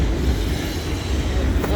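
A Class 450 electric train rolls through Basingstoke station on the South Western Main Line, a loud, continuous rumble of wheels and carriages close by.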